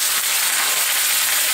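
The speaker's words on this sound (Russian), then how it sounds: "Теперь сюда в сковородку отправляем нашу курочку." Chicken tabaka sizzles steadily in a hot frying pan, a dense, even crackle of frying that stays close and constant with no talk over it.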